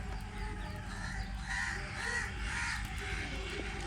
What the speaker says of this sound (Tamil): இந்த ஒரே காக்கா தொல்லை வேறு